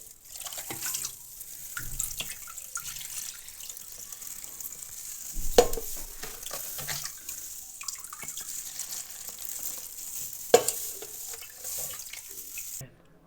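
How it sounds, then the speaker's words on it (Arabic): Water pours steadily from a cup into a jar of homemade pickles, a soft continuous trickle with occasional small splashes and clinks, close by and alone. "نجيب كوبايه ونصب بقى الميه"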